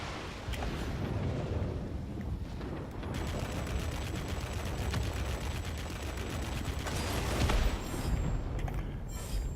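Guns of an F7U Cutlass jet firing in World of Warplanes, a dense, continuous rattle of rapid bursts blended with a steady engine roar, loud throughout with no talking.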